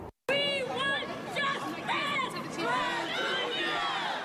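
A large crowd of mourners gathered along Southern Boulevard outside a Bronx funeral home, a steady close babble of many overlapping voices with no single speaker standing out.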